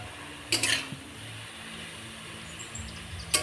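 Half-boiled cauliflower curry stirred in a pot, two brief metallic clinks of a utensil against the rim separated by a quiet bubbling background, close and otherwise calm.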